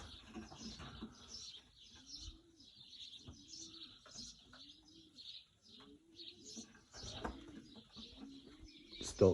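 Pigeons in a young birds' loft, alarmed: repeated coos recur every second or so alongside scattered chirps and a bright twittering layer, fairly close and steady, with a sharp thump near the end.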